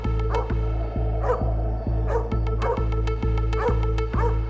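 A dog barks and yips repeatedly in short bursts, loud and close, over a steady rhythmic low background pulse.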